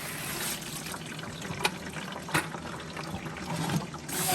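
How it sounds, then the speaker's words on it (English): Water from a garden hose rinsing out a bucket of soaked beet pulp, a steady close splashing rush that runs without pause, with a few brief knocks and sloshes. "So I will just take my hose and rinse this out."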